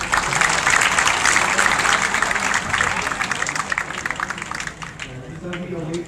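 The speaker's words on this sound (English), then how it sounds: "A big round of applause for these people," An audience applauds graduates at the 2022 Sukkur IBA University 8th convocation with dense, steady hall clapping that holds for several seconds and then thins and fades, while a voice is heard faintly underneath.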